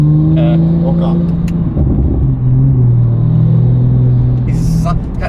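A Porsche 911 Turbo S on the road, its engine intake and exhaust giving a steady, loud low rumble while driving, with people talking over it throughout.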